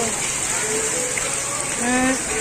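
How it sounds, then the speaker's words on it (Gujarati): A water fountain sprays at Swaminarayan Gurukul in Surat, a continuous rushing splash heard close, with people's voices faintly mixed in. "ફુવારા થાય છે તમે જુઓ તમે કેટલું મસ્ત છે પાણી જો"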